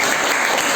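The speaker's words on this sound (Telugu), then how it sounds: "వెరీ గుడ్, తనకి క్లాప్స్ కొట్టండి" Students clapping in a classroom, a short burst of dense, lively applause filling the whole moment.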